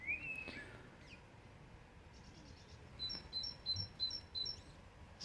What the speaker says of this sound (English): Some lovely bird song all around me.